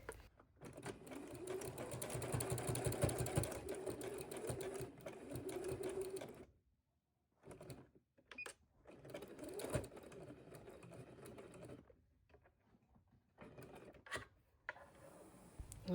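A sewing machine stitches a fabric rug in several close bursts of rapid needle chatter, separated by short pauses and near-silent gaps, with quieter handling noises between runs.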